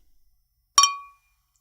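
Beer glasses clink together once in a toast, a single bright ringing chime that decays over about a third of a second, close and clear in an otherwise quiet moment.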